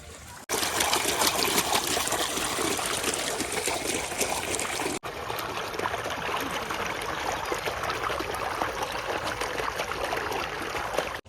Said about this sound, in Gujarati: પાણી જે ખાલી થાય રહ્યું છે ને અડધું ટોકું ખાલી થઈ ગયું છે